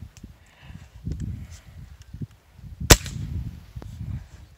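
A single sharp pellet rifle shot cracks out once over a chronograph during velocity testing, a loud isolated report amid low rustling handling noise.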